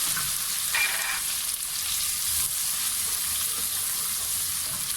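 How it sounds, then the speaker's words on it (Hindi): Steady sizzling of garlic frying in hot oil, a continuous crackling hiss with faint stirring scrapes, close and moderately loud. "अब इसके अंदर ये लहसुन डालेंगे। लहसुन को थोड़ा सा फ्राई करेंगे।"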